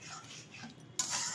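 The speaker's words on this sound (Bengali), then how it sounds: "ভালোভাবে নাড়িয়ে দিচ্ছি।" Spoon stirring white papaya ghonto with milk and ghee in a pan, a brief run of soft close scraping and light metallic ticks that grows a little louder toward the end.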